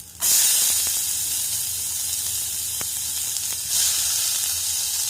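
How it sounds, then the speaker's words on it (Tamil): Chopped onions hit hot oil with ginger and garlic for peas masala, bursting into a loud, close, hissing sizzle that holds steady and then swells again near the end, with no talking. "வெங்காயம் நல்லா கோல்டன் ப்ரௌன்ல ஆகட்டும். நல்லா ஃப்ரை பண்ணிக்கோங்க"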